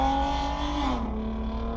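Car engine straining and revving with rising, falling pitch, loud and close, alone, sounding rough and in poor condition.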